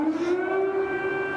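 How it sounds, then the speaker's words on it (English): Air raid siren in Kyiv during the Russian invasion of Ukraine, a steady, sustained wailing tone heard at moderate distance, holding a nearly constant pitch throughout with no voices. "we've got a siren that has just started"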